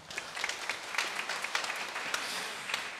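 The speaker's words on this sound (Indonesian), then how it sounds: "Tepuk tangan untuk Romo Pewarto." A church congregation claps continuously after a homily, a dense steady patter of applause with a few sharper individual claps, moderately loud throughout.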